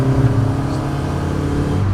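A car engine pulling uphill under load gives a loud, steady, close-up drone from inside the moving car, with no talking.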